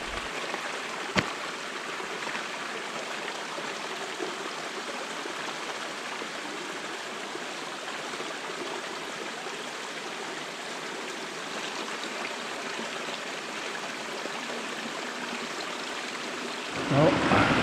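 A stream flows steadily beside a mountain hiking trail in rainy North Carolina woods, a continuous near wash of running water holding even from start to finish, with one sharp click early and a brief louder surge at the very end.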